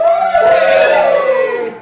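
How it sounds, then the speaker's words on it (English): A small live studio audience on a podcast lets out a brief loud whooping cheer, close and short, fading after under two seconds. "we have a live studio audience. Give us a cheer, yo."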